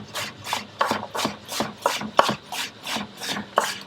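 A knife chops potatoes into small cubes on a cutting board, with crisp, close, evenly spaced cuts and board knocks in a steady rhythm of roughly two per second, no talking.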